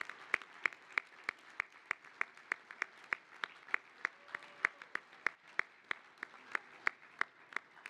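A conference audience at a 2025 KACo farewell dinner applauds the support staff, a steady run of sharp, evenly spaced claps that sounds like a small group or a single close pair of hands, no talking.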